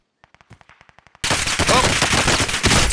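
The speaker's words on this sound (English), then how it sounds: "they're gonna fucking keep shooting at me" Enemy gunfire in Call of Duty: Modern Warfare, opening with a string of faint, evenly spaced distant shots that give way to a sudden loud, dense burst of rapid close fire continuing to the end.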